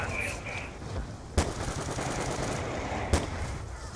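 Two sharp, separate pistol shots in a Call of Duty zombies match, about two seconds apart over a busy game background with faint chatter.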